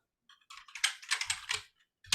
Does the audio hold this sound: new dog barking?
no